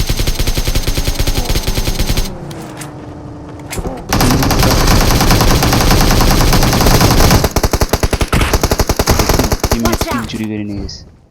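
Loud automatic gunfire from the mobile game PUBG Mobile comes in rapid, sustained bursts with a short lull near the middle, then a final burst that cuts off abruptly.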